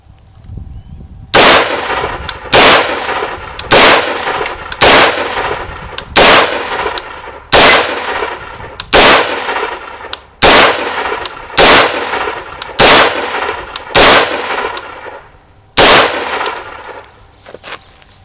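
About a dozen sharp gunshots from an AR-15 pistol with a 10.5-inch barrel and a Noveske muzzle brake ring out one at a time at a steady pace, each a loud crack with a short ringing decay.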